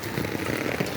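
Steady rain pattering hard on surfaces along a flooded Chembur street, a dense continuous hiss of drops, close and even.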